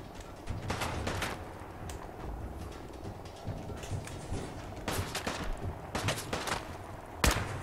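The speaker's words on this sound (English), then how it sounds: "Who is shooting me?" Gunfire in Fallout 4 comes in scattered bursts of sharp shots, some in quick clusters, mid-distance and moderately loud over a steady game background.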